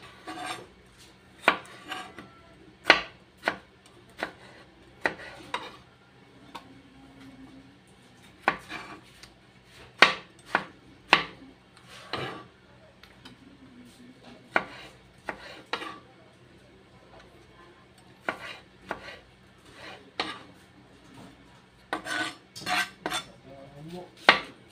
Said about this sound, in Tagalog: maghiwa na tayo ng kamatis at sibuyas